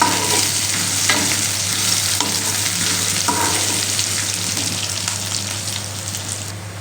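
Sliced onion in a tempering of hot oil, stirred as it fries: a steady, close sizzle runs throughout, with spoon scrapes against the pan and no voices.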